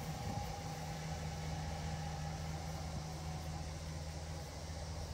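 A 2013 Ram 1500 Laramie pickup with dual exhaust idles low and steady close by, with a constant hum and broadband hiss, unbroken for the whole stretch.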